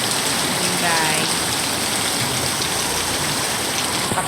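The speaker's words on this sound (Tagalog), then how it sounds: "ang lakas ng ulan. May kulog at kidlat pa." Heavy afternoon rain pours down in a loud, dense, unbroken roar, drumming steadily on surfaces close by, during a storm with thunder and lightning.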